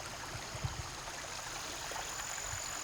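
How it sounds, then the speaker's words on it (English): Water runs through a cutout in an old pond dam after heavy rain, a steady soft rushing trickle heard at a distance, faint and continuous with no other sounds. "you can see the water flowing through there"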